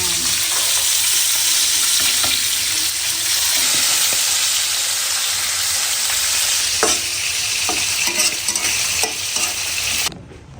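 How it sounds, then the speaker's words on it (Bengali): Vegetables fry in a pan with a steady, loud sizzle and repeated stirring scrapes throughout, cutting off abruptly near the end. "এটা হলো ভাজি হচ্ছে"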